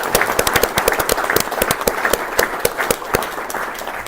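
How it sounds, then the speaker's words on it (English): Warm audience applause at a celebration for an honoree, dense overlapping claps from a crowd, steady and fairly loud throughout with no voices over it. "who deserve a very warm round of applause right now"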